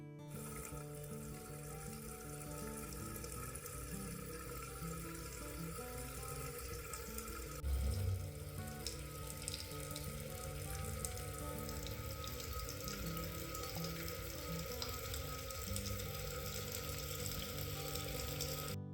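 Water runs steadily in an old working fountain basin inside a historic Bristol home, a constant soft trickle and splash with no voices.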